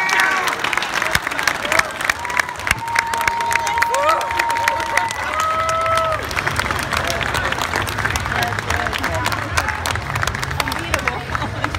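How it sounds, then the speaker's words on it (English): An audience at a Fight to Win Pro grappling match breaks into sustained applause and cheering, dense clapping filling the hall with crowd voices and shouts mixed throughout. "another round of applause"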